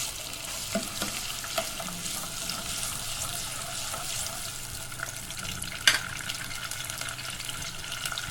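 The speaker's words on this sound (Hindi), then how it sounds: "इसके अंदर मैं अदरक लहसुन का पेस्ट शामिल कर दूँगी। इसको मैं हल्का सा फ्राई करूँगी।" Ginger garlic paste fries in hot oil for achar gosht, giving a continuous close sizzle with steady stirring scrapes and one sharp clink of the utensil against the pan.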